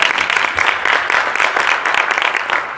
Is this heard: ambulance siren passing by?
no